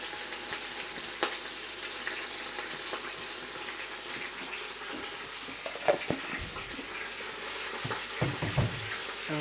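Meat seasoned with chili and salt sautés in a pan with a constant, moderate sizzle, while occasional stirring clinks and scrapes rise above it near the end.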